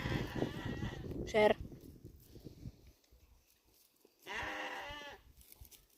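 Sheep or goats bleat twice while being hand-fed on a farm, a short cry then a longer, louder harmonic bleat, with a voice talking underneath at the start.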